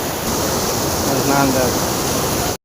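A waterfall at a scenic forest spot gives a loud, steady broadband rush that holds evenly for a couple of seconds and then cuts off abruptly.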